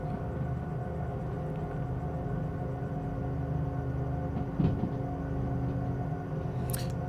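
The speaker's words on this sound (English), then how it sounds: "Tiny bit of train brake, just one click of it." Train rolling steadily with a light touch of train brake in the Derail Valley railway simulator, a continuous low rumble and hum with a brief squeal near the end, no talking.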